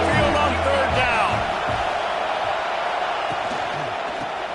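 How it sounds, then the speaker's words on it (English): A home football crowd at Alabama's Saban Field roars on third down against Vanderbilt, a loud, sustained wash of stadium noise that holds steady from start to finish, with a voice briefly audible early on. "The Tide crowd rolling noise down onto Saban Field on third down."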